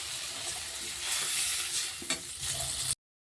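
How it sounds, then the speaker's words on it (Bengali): Water poured into a pan of fried pointed gourd and cooked spice base sets off a loud, steady, close-up sizzle that continues unbroken and then cuts off abruptly. "এবারে আমি একটু জল দিয়ে দিচ্ছি।"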